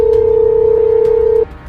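A steady electronic telephone tone sounds continuously during an unanswered call, then cuts off abruptly near the end, leaving only faint background.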